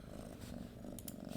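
A cat purrs close by in a soft, steady rumble, with a couple of faint higher rustles near the end.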